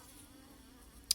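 Bees around an established hive that is being moved, heard as a faint, steady buzzing close by, with one short, sharp tick near the end.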